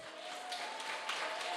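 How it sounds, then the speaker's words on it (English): Applause from an audience at a business motivational seminar, a steady wash of clapping at moderate distance, continuous through the moment with a faint high tone running underneath. "Big round of applause here."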